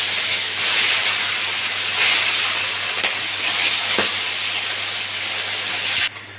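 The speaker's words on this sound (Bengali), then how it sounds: "উল্টে পাল্টে ভালো করে ভেজে নেব" Pona fish pieces fry in a pan of oil with a loud, steady, hissing sizzle that runs unbroken until it drops off abruptly near the end.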